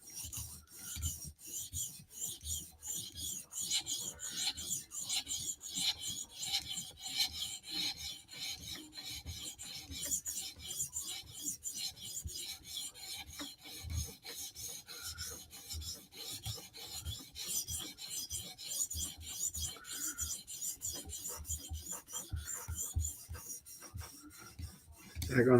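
Spyderco Slysz Bowie knife sharpened on a 400 grit stone, a quiet, close rasping scrape in steady back-and-forth strokes, repeated rhythmically for the whole stretch.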